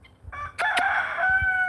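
A chicken crows nearby in one sustained call, loud and clear over a quiet background with no talking.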